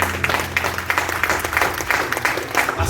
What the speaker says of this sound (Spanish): Denle fuertes palmas al Rey de Reyes.